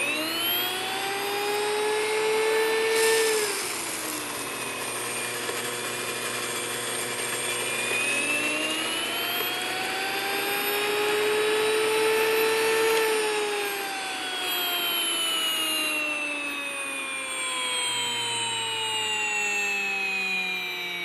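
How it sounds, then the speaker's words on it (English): A grain mill milling wheat berries makes a loud, steady mechanical whine with rising and falling pitch sweeps, like a motor spinning up and winding down, running continuously without talk. "every time you mill 1 cup of wheat berries"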